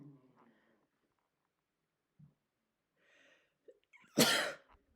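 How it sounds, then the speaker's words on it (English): After some faint, brief speech and a quiet pause, one loud, abrupt sneeze bursts out close by. "Sorry, I'm going to sneeze."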